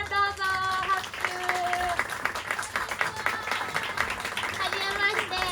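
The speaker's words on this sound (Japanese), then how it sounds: "登場していただきましょう。 いおりちゃん、どうぞ。 拍手" Audience applause rises as a Japanese comedian is brought onstage as a special guest at an indie rock concert, a steady crowd clapping that continues throughout with musical tones ringing above it.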